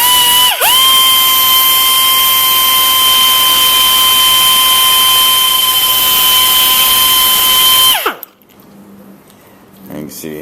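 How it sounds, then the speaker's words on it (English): A power tool reams out a steel tube for a homemade tow bar, producing a loud, steady high-pitched whine that runs unbroken for about eight seconds before spinning down and stopping. "I'll use this to ream it out a little bit."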